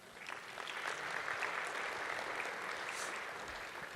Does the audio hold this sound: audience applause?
yes